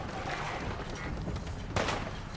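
Gunfire in the video game Fallout 4 on an active battleground: a dense wash of combat noise with one sharp, loud shot cracking out near the end.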